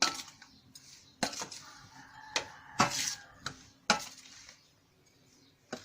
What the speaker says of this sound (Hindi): अब इन चारों चीजों को चम्मच की मदद से मिक्स कर लेंगे